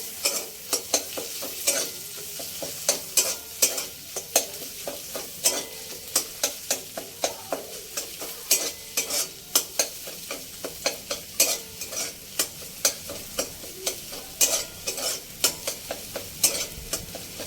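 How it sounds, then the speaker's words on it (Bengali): A spatula scrambles egg in a hot frying pan, with rapid, rhythmic scraping strokes over a steady sizzle, close and continuous for the whole stretch without any talk. "ডিমটা এইভাবে ঘেঁটে দিয়ে ঝুড়ো করে নিতে হবে, এইভাবে খুন্তি দিয়ে।"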